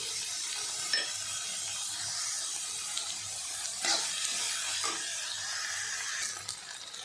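Onions with salt frying in a pan, a faint, even hiss with occasional soft spoon scrapes, heard close but quiet.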